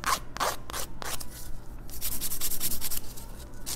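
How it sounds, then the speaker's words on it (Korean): A nail file rasps against fingernails while shaping them, quick repeated close strokes in short bursts that speed into a faster scrubbing rhythm, no talking. "그리고 파일 사용해서 모양을 다듬어 주시면 됩니다."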